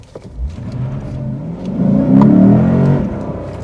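A 2024 Lexus IS 500 F Sport accelerates hard from a standstill in a parking lot, its engine note swelling from a low rumble into a loud, sustained roar that holds steady near the end.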